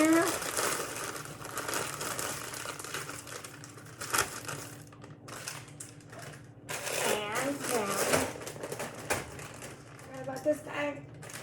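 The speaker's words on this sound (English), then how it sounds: "dump the whole bag in there" A bag of frozen mixed vegetables (carrots, corn, peas and green beans) crinkles and rustles as it is emptied into a soup pot. The plastic crackling is close and busy, with a voice talking over parts of it.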